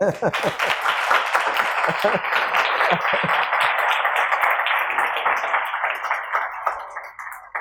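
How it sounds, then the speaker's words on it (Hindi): Congregation clapping for Jesus during a Sunday church service in Pakistan: dense, sustained applause from many hands, loud and steady throughout, tapering slightly toward the end. "यीशु मसीह के लिए तालियां बजाएं।"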